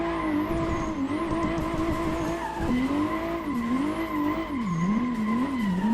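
A car drifting in the racing game Assetto Corsa, zigzagging around basketball courts, with a steady engine drone and long, wavering tire squeals sustained throughout, loud and close.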